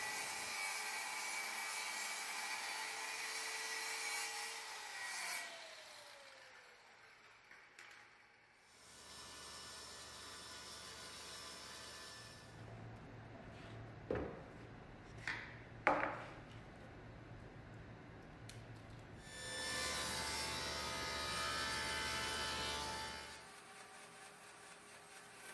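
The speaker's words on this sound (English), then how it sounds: "the first task is to cut out some of the plywood pieces" Plywood pieces being cut with a saw in a workshop building a carvel-planked boat, several loud sustained bursts of cutting separated by quieter handling knocks and clatter, with no talk.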